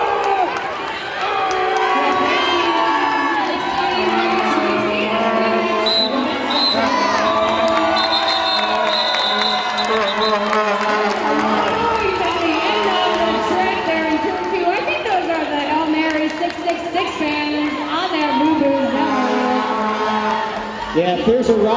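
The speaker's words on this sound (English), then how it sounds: "they're cheering between these two teams, Hail Marys and Hotrod Honeys" A crowd cheers and shouts through a roller derby bout between the Hail Marys and Hotrod Honeys, sustained and loud, with announcers talking over the noise.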